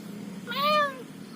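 A single clear cat meow, rising and falling over about half a second, heard close up over a low background hum.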